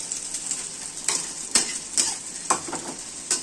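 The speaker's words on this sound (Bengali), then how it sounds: "পাল্টি মেরে দিলেন ডিমটাকে।" Egg omelette frying in a pan just after being flipped, a steady high sizzle broken by several sharp scraping clicks from a spatula at irregular intervals, close and clear.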